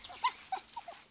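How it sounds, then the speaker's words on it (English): African hunting dogs give a few short, faint whimpers and high whines in quick succession, close by against a quiet background. "They're a pack of 4 African hunting dogs"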